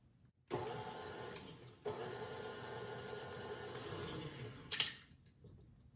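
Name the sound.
beating wet ingredients for lemon cookie batter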